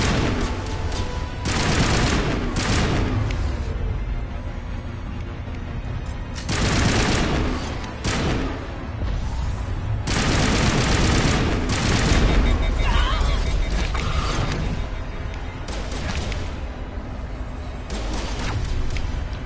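Gunfire rattles through the Saren boss fight at the Mass Effect finale on Insanity difficulty, with repeated loud bursts and booming shots spread across the scene and a voice talking at times between volleys.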